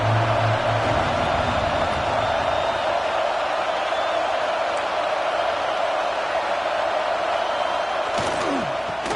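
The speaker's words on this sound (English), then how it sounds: "Here comes the noise from this big crowd in Happy Valley on third down." A big stadium crowd at a Penn State college football game against Ole Miss in Happy Valley roars steadily on a third-down play, a continuous dense wash of noise with a faint sharp knock near the end.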